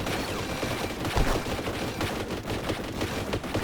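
In the game Warhammer Survivors, an enemy fires a gun in a steady, dense stream of rapid shots against busy background game noise.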